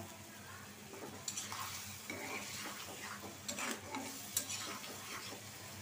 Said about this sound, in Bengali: এখন আমি মশলাটা কষায় নিব।